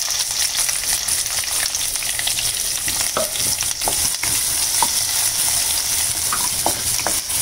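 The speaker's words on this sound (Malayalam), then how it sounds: "നന്നായി ഒന്ന് ഇളക്കി കൊടുക്കുക." Chopped onion frying in oil for a broccoli egg stir fry, a continuous loud sizzle up close with occasional light stirring clicks and scrapes and no talking.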